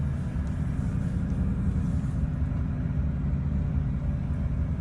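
A vehicle engine in first gear drops down a steep hill, giving a loud, steady low rumble close by that stays constant throughout.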